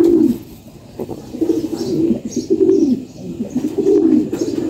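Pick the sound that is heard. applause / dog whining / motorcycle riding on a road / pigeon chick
pigeon chick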